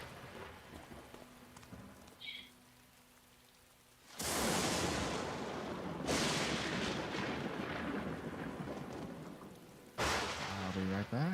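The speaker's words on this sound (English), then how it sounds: "There's a storm going on." A heavy thunderstorm with steady loud rain and repeated deep thunder rumbles, including a sharp crack near the end, within a fantasy tabletop role-play scene; a quieter, calmer stretch comes before the downpour swells in.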